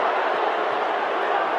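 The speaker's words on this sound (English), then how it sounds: "this Collingwood crowd starting to get real loud" Loud, steady roar of a Collingwood football crowd at the 2022 semi final against Fremantle, a dense, unbroken wash of massed voices with no distinct calls standing out.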